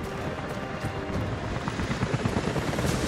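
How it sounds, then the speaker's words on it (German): A helicopter in the video game Rise of the Tomb Raider approaches with a steady rotor roar that grows slightly louder and choppier toward the end, with no speech. "Helikopter sind unterwegs zu Ihnen."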